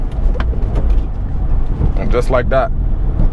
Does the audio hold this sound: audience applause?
no